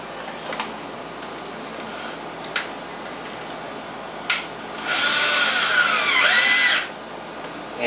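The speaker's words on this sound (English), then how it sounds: "running in 4 simple screws" A power drill briefly drives four screws into an ozone generator cell, with a sustained whir of about two seconds after a few short clicks and bursts, close and fairly loud against a quiet room.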